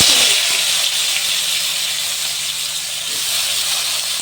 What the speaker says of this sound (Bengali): এখন আমি সবজিগুলো ওই তেলের মধ্যে